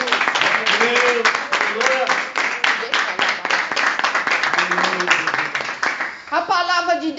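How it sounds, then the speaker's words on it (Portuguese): Church congregation clapping hands loudly in a steady, fast rhythm, close and sustained, with voices speaking and singing over the claps and a short sung phrase near the end. "glorificar a Deus com as palmas bem fortes"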